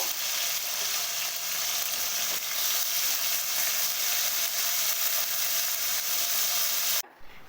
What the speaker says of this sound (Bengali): আমি এটা এখন লাল লাল করে সাদা তেলে